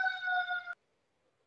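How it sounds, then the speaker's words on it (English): Siren heard faintly in the background: a steady tonal wail for under a second that cuts off, followed by near silence and a brief noise burst. "there's sirens going on in the background"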